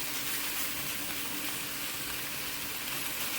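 Ground beef browning in a pan on a stovetop, a steady, even sizzle and crackle of frying meat that holds close and constant throughout with no talking.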